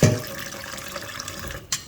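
Water pours steadily into rice being prepared for Ghana jollof, a close, continuous splashing stream that briefly swells toward the end.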